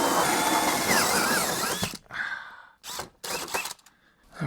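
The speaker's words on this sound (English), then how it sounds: "then we can drill the hole" A power drill whines loudly while boring a hole, then the sound breaks into a few short bursts separated by silent pauses.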